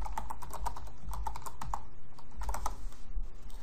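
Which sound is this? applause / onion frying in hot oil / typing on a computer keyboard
typing on a computer keyboard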